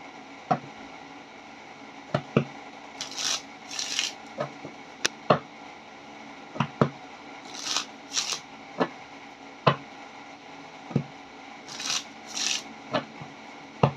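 Tarot cards shuffled by hand during a reading, with repeated sharp riffling snaps and soft sliding rasps in irregular bursts, close and clear with no talking.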